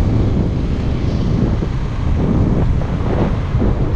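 Strong wind in Kashmir roars steadily into the microphone, a loud, continuous rumbling buffet with slight gusting swells and no voices.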